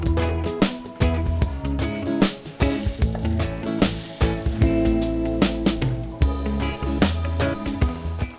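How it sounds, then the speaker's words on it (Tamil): A mixer grinder grinds cooled roasted pearl millet (kambu) coarsely, a loud whirring roar broken by repeated short pulses and rattling stops and starts. "மிக்சியில் போட்டு கொஞ்சம் குறைன்னு அரைச்சி எடுத்துக்கலாம்"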